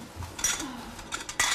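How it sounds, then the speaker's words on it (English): Metal cutlery and dishes clink and rattle close by in a home kitchen, several bright clatters in quick bursts with a brief scrape between them, no talk. "I'll grab some cutlery"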